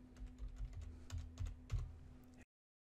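Quiet, steady keystrokes on a computer keyboard as a folder name is entered, a soft run of taps over a low electrical hum, then abrupt silence; no talking.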